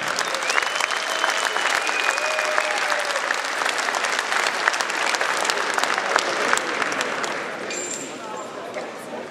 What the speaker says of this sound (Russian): образовавшуюся паузу можете заполнить своими аплодисментами.